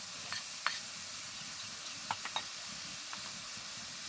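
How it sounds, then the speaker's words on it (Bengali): Onion and green chilli fry in hot oil with potato and freshwater snails (gugli), giving a steady, soft, close sizzle broken by a few brief spatula clicks and scrapes, with no talking. "তার সাথে দিয়ে দিচ্ছি পেঁয়াজ আর লঙ্কা"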